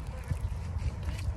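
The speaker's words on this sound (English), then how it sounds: "Somewhere to put the duck that's safe." A duck quacks close by beside a city pond, a few short raspy calls over low rumbling background noise.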